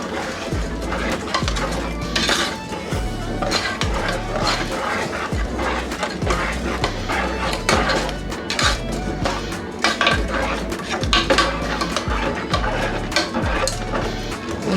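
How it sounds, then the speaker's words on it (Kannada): A spoon scrapes and clinks around a pot while stirring a watery mixture for idiyappam syrup, a busy, close run of metallic knocks and scrapes with a rhythmic low thumping beneath. "ಈ ರೀತಿ ಹಾಕ್ಕೊಂಡು ಇದನ್ನ ಮಿಕ್ಸ್ ಮಾಡ್ಕೊಳ್ಳೋಣ."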